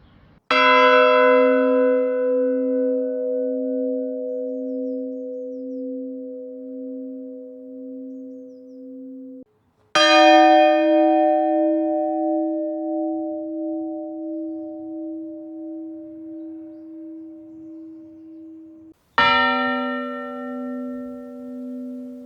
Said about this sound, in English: Alright, Ron, we're ready when you are on bell number 1.